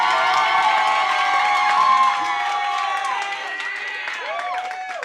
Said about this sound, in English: Clapping loud than any other generation.